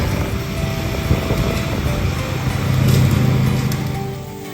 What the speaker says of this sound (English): See, now we can mow right up next to the fence line.